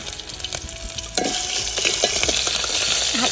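Curry leaves and ginger-garlic paste hit hot oil in a home kitchen for misal, bursting into a sharp crackling sizzle with spoon stirring, close and loud, no talking.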